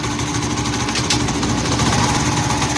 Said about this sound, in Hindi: अब हम इस बाइक को स्टार्ट करेंगे। स्टार्ट किया हमने